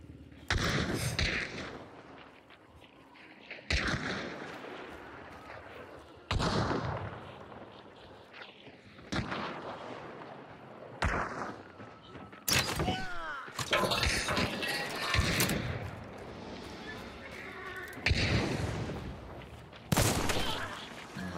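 Chaos bomb in Hunt: Showdown, a series of sharp, loud gunfire-like cracks and bangs spaced every couple of seconds, with rapid crackling bursts clustered toward the end.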